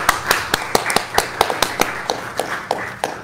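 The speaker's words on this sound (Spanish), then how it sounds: "Un gran aplauso al equipo que organizó ese evento y las personas que donaron" Applause for an event team at a church gathering: a small, sparse group claps in a fairly regular rhythm of distinct slaps, close and moderate in volume, for a few seconds.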